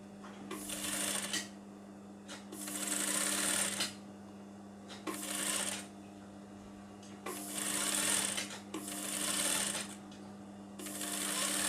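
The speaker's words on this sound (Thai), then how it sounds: "เราก็เย็บอีกครั้งหนึ่งก็คือเย็บเก็บริมสองครั้งนะ" A sewing machine stitches a sleeve hem edge, running in several loud bursts with short pauses between, over a steady low hum.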